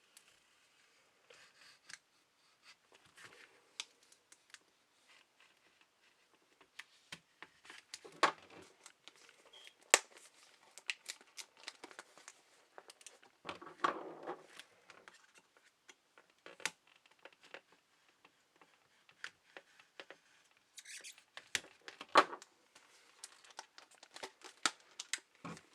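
Packaging of a blue Vivitar portable speaker is opened by hand, with intermittent crinkling plastic, rustles, tearing and small clicks coming in uneven bursts, close and quiet, separated by short pauses.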